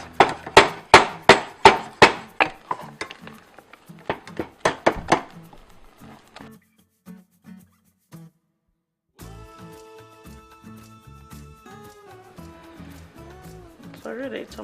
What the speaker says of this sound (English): it's been about 5 minutes of stirring continuously to avoid burning